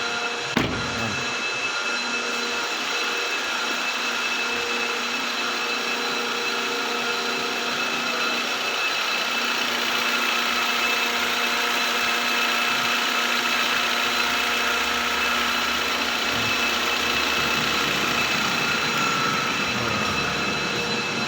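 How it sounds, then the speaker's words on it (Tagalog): A 2016 Hyundai Elantra engine idling with a humming fault, giving a steady, even drone with a constant whine above it that holds unchanged throughout. "umaandar itong makina guys."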